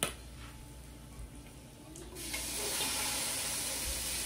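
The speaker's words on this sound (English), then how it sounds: "I'm gonna wash this pan, because I don't like when it gets too greasy" A tap runs over a greasy pan being washed in a kitchen sink. A quiet start gives way to a loud, steady rush of running water that fills the second half.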